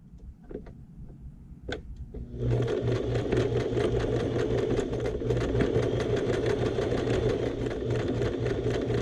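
Sewing machine backstitching a seam on a shoulder bag: a few short clicks at first, then a steady rapid needle chatter running continuously and close.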